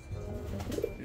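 Breeder pigeons in a loft give a soft, brief coo, faint and close, over low background hum.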